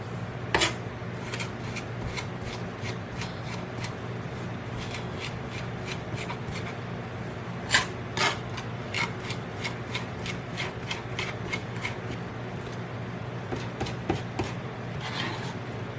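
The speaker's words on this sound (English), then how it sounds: "I use the salt as like an abrasive and really smash the garlic into a paste" Garlic being smashed and ground into a paste with a pinch of salt on a board, a steady run of close, gritty scraping and crushing strokes with a few sharper knocks.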